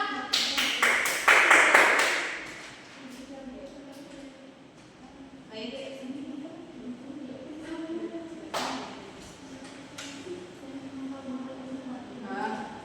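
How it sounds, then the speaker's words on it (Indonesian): A classroom of pupils bursts into loud, rapid hand clapping for about two seconds, then it fades into murmuring and a teacher's voice talking. "Tepuk tangan dong."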